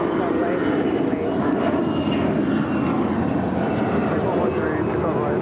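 An American Airlines jet airliner on its takeoff roll from runway 25 right at Los Angeles International Airport, a loud, steady engine roar throughout with tower radio chatter talking over it.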